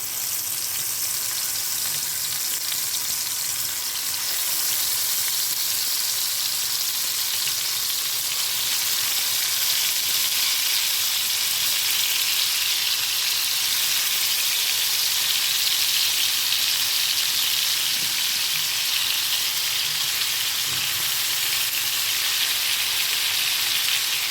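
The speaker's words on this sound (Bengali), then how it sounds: "এখন আমি মাছগুলো কিন্তু ভেজে নেব" Pieces of katla fish frying in hot oil in a pan give a steady, loud, unbroken sizzle that holds evenly throughout with no talking.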